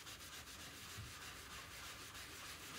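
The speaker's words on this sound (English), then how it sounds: "I might have to scrub a little harder right here, just so that there isn't that line." Paper is scrubbed off a photo transfer, a faint, steady abrasive rubbing with a soft, continuous scratchy texture and no voices.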